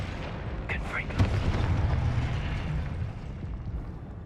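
Casting the Confringo fire spell in Hogwarts Legacy sets off a booming, rumbling explosion that swells and fades over a few seconds, close and loud, with a few brief whooshing effects.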